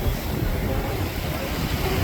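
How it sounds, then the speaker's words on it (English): Big Atlantic waves wash and rush around a sailboat running wing and wing, a continuous loud churning surf mixed with wind buffeting, no voices. "the waves are big at times"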